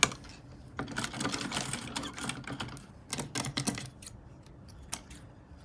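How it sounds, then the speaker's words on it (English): A manual sewing machine stitches an invisible zip into an open-back dress, giving rapid, close mechanical clatter in dense bursts with short pauses between runs. "you want to use your manual machine to sew"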